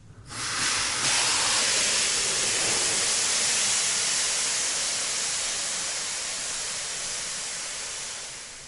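Steam hisses loudly in a dugout steam room, a dense continuous rush that swells in within the first second and holds steady, slowly easing off over several seconds with no voices.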